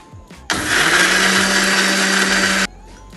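A mixer grinder grinds roasted coconut for a Kerala-style roasted chicken curry in one loud, steady whirring run of about two seconds, starting and stopping abruptly.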